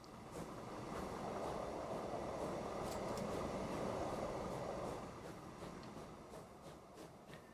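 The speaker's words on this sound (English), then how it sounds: "it had to stop for this passenger train" A train in the video game Transport Fever 2 rumbles along steadily with a clacking rhythm of wheels, loud through the middle and easing off toward the end.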